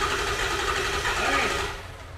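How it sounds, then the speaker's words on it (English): A 2008 Ford F450 6.4L diesel engine cranks over during a head gasket job, a steady, close mechanical churning that fades at the end. "Alright, I'm gonna crank."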